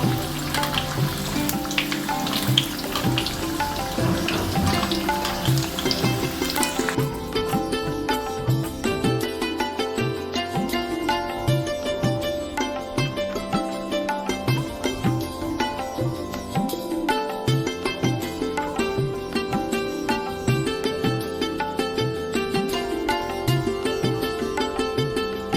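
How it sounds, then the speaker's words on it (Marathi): Sabudana vada made with rajgira flour shallow-frying until crisp in hot oil, a steady fine crackle and sizzle that continues for the whole stretch, fairly quiet, with faint music in the background and no talking. "आता हे आपण छान परतून घेऊया खरपूस."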